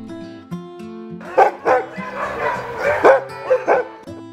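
Husky dogs in Ushuaia bark and yip in a lively series of close, loud calls, with whimpers and yelps between the barks.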